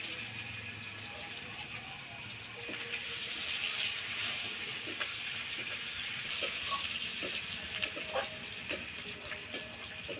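Onions frying in a kadai after dried red chillies and whole spices, a soft continuous sizzle with faint crackles and scattered light clinks of stirring, fairly quiet and steady with no talking.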